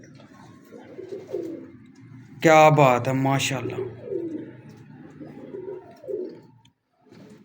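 Kalu Baloch breed pigeons coo in low, soft bursts close by, while someone speaks over them in the middle.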